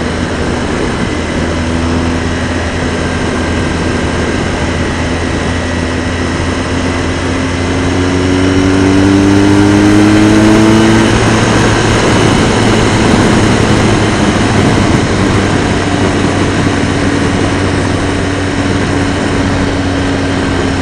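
A motorcycle engine and exhaust drone steadily while riding on a dirt road, loud and continuous, with a low rumble and rising pitch sweeps as the throttle opens near the middle.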